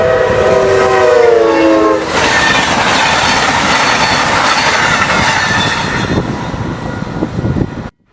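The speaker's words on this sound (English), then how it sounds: "Our first train would be a westbound Wolverine with a P42 on point." A westbound Wolverine passenger train led by a P42 locomotive passes close by at Ogden Dunes. A loud horn opens the sequence, and a heavy rolling rumble and rail clatter continue steadily until the sound cuts off.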